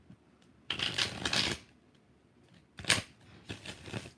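Tarot cards riffle-shuffled in two close, crisp bursts, each under a second long and papery and crackling, with a softer flurry near the end and quiet pauses between.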